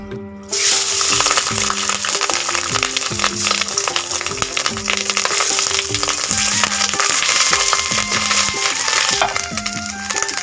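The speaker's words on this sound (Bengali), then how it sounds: "এখন এটা আমি ভাজা বসিয়ে দেব" Fish roe coated in salt and turmeric fries in a pan with a steady, loud sizzle and crackle that runs for several seconds, with background music playing over it.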